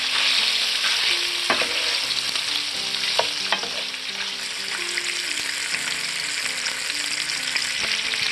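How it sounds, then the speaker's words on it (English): Sausage sizzles in a pan over medium to medium-high heat with a constant bright crackle and spit, while a utensil stirs and scrapes through it now and then. Soft tonal background music runs underneath. "Now we're going to stir the sausage."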